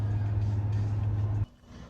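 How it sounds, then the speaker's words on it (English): A diesel generator powering an EV charging station drones with a steady low hum nearby, then cuts off abruptly after about a second and a half, leaving faint background noise. "What's that? A diesel generator"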